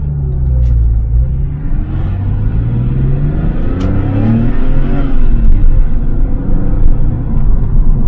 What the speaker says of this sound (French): Écoutez la sonorité du flat 6.